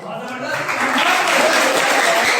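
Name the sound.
audience applause at a college freshers' party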